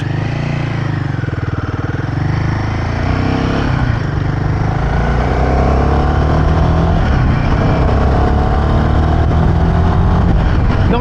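A Royal Enfield Himalayan 450 motorcycle rides on a UK road, with a loud, continuous engine rumble and wind roar up close, its pitch shifting slightly as it moves on.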